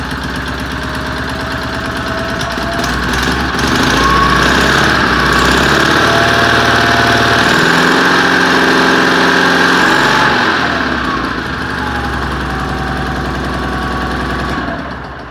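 An old small engine on a Sears machine runs rough nearby, loud and uneven, with a leaking muffler adding a ragged, knocking chug that swells and eases over the run.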